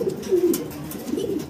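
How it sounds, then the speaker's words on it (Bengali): A male pigeon coos close by, a low throaty warbling call that rises and falls in two swells across a second and a half, clear and alone. "এই যে ডাক দিতেছেন নরে"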